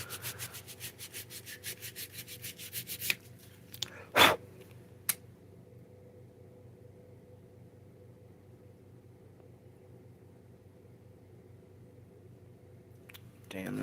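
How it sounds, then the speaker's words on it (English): Sandpaper rubs against the body of a headless bass guitar in quick, even back-and-forth strokes for about three seconds, then a few sharp knocks follow and the rest is near silence. "Yeah, I don't think I'm getting very far with the sandpaper."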